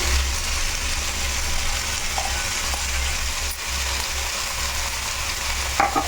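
Washed moong dal tipped into a hot pan for rava khichdi, giving a steady close sizzle and fry hiss that runs the whole time, with a low hum beneath and a brief scrape near the end.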